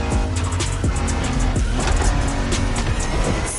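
A Honda sports car engine in a video game revs and whines continuously at high pitch, with gear shifts and brief tire squeal, loud and close, no talking.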